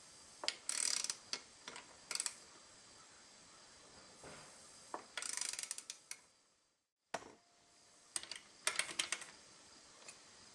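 A 13mm wrench works a bolt on a motorcycle top end, with quiet, irregular clicks and short ratcheting bursts up close, broken by pauses and a brief silent gap.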